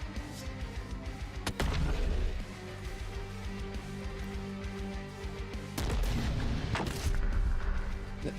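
Mortar fire rumbles in the fantasy strategy video game The Last Spell: two heavy booming blasts with deep low rumble over a constant droning battle bed, loud and close, no talk.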